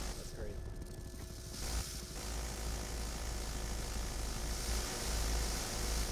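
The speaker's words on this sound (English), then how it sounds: "This transport scout helicopter tries to ram us" A loud, continuous engine drone of a transport scout helicopter in flight in the video game BattleBit Remastered, with a steady rumbling low end and a brief dip partway through.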